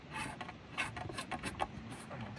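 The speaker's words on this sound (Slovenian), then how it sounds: "centerlock prišraubaš gor" A centerlock disc adapter on a bicycle hub is screwed on and tightened, giving a steady run of soft metallic clicks and ratcheting ticks, close and fairly quiet.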